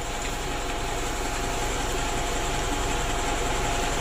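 A diesel engine with a suspected faulty supply pump idles roughly just after being bled and started, giving a steady, loud, close-up rumble with a vibrating, slightly knocking texture throughout and no talk over it.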